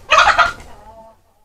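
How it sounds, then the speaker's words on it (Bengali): Sonali chicken giving a sharp, loud burst of clucking up close, two quick squawks followed by a fading trailing call, then quiet. "আমাদের সোনালী মুরগি"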